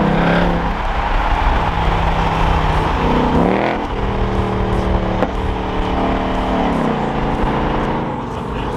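A 2026 Ford Mustang GT Premium's exhaust revs up and settles with sharp pops, loud and close, its engine drone rising and falling across several throttle blips.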